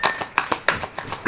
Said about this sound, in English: I'm gonna do one more shuffle and one more rifle